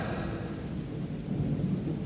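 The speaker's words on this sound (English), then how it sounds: "When the rain stops." Steady rain pours during a thunderstorm, with low rumbling thunder rolling underneath throughout, a dense continuous wash with no voices.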